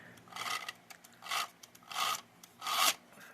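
Gear teeth turning inside the mechanism of a 1958 Radicon toy robot, four rasping grinding bursts in a steady rhythm, close and fairly quiet.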